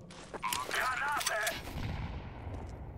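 Blasts and gunfire crack in a CS:GO match, a cluster of sharp bursts early on followed by a lower, fading rumble, partly mixed with a voice.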